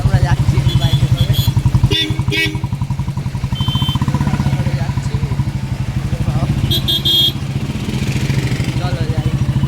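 A motorcycle ridden with a passenger, its engine thrumming in a fast steady pulse close by and loud throughout, with wind rush and occasional rattles; a voice speaks briefly over the engine.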